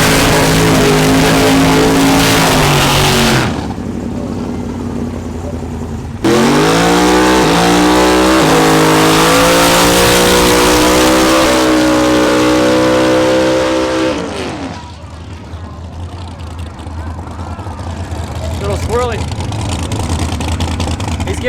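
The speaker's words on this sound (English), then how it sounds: "And the Camaro are gonna give each other a race." A Camaro and another car race side by side at a race-week event, engines roaring loud and close under hard acceleration. Rising gear pulls fade toward a more distant drone, with people talking over the noise.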